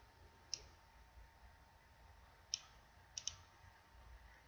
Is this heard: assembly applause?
no